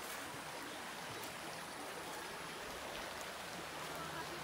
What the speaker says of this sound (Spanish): Arroyo, agua.